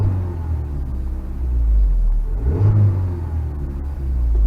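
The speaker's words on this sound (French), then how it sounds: "Allez, on démarre. Donc, vous écoutez ce beau petit son?" A Mazda MX-5 with a 2.0-litre engine rumbles close by, idling low and then rising in a brief rev before settling and swelling again, loud and deep with no talking.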